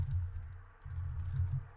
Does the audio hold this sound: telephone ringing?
no